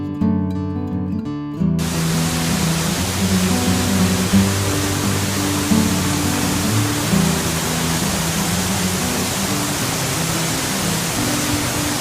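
Waterfall in Glacier National Park, a loud steady roar of rushing water that begins abruptly after a short stretch of quieter sound and continues without break, with no talking.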